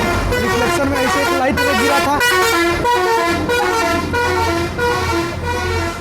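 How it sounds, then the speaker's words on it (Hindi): Cars pass by outside on the street, engines rumbling and horns honking repeatedly at close range, all beneath someone talking steadily indoors. "बाहर में गाड़ी जा रही थी इसीलिए गाड़ी का आवाज़ आपको सुनाई दे रहा होगा"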